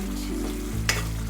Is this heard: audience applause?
no